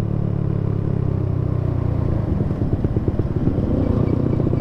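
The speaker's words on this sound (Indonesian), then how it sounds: "ini misalnya gue ngebut nih, terus gue lepas gasnya" A Suzuki Satria FU motorcycle with a hollowed-out silencer runs loudly and close, then the throttle is released after speeding and drops off into a burbling, popping exhaust rumble as the revs fall.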